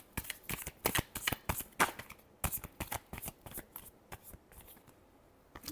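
Tarot cards being shuffled in quick, crisp riffling bursts, a steady run of sharp papery flicks at close range with no talking.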